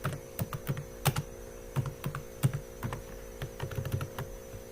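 Quiet, irregular bursts of clicks and taps from typing on a computer keyboard, set against a low steady electrical hum.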